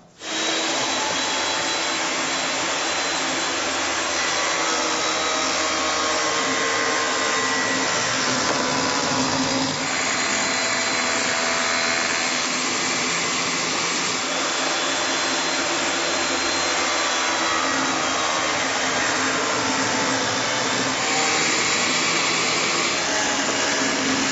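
Loud, continuous whine of a Delta power saw cutting through a bookcase panel, a steady high-pitched roar that holds for the whole stretch with slight shifts in pitch as the blade moves through the wood.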